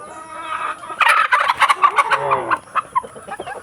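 Caged roosters and chickens cluck and squawk in a busy, close chorus of overlapping calls, with short bursts of bird noise and no talk.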